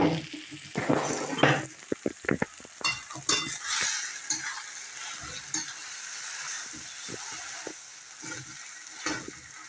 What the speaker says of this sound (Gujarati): પછી આપણે એને બટાકા જે મસળેલા છે બટાકા નાખી દઈશું અને શેકી લઈશું